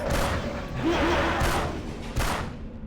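Explosion in the game Vampire the Masquerade Bloodlines, a loud sustained burst of rumbling, crackling noise with a couple of sharper blasts within it.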